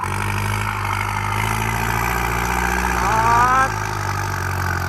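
A turbocharged M75 pickup truck engine set up for towing a four-disc plow runs loud and close. It holds a steady rumble, then swells briefly into a rising rev before settling, with a voice speaking over it.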